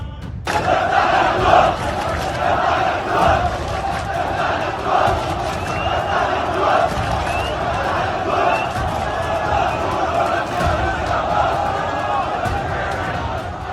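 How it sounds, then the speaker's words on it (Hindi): A large protest crowd shouting and chanting slogans in unison, with rhythmic voices and scattered cheers, loud and continuous with a busy open-air feel. "उन्होंने इजराइल के खिलाफ नारेबाजी की"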